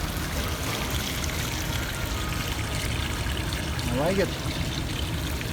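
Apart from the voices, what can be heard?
Bosch intercooler fluid pump pumping fluid, Toyota Tundra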